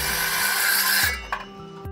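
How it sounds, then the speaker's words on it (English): A power tool runs loudly against wood for about a second, a coarse whirring grind that then cuts off, leaving a few light knocks and clatters in a quieter room. "Power tool's quiet."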